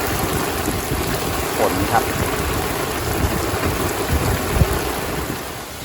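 Heavy rain falls steadily as a dense, constant hiss near an outdoor fish pond, loud and continuous throughout, with a few faint knocks and no clear talk.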